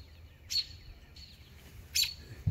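Two short, harsh bird calls from a robin, spaced apart against quiet outdoor background.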